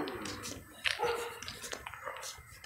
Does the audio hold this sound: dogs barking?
yes